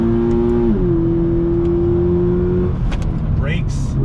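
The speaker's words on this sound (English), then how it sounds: "On the brakes, downshift, very nice, smooth" A 2020 Toyota 86 Hakone Edition engine braking and downshifting, steady engine drone dropping in pitch then blipping up, close and loud, with someone talking over it.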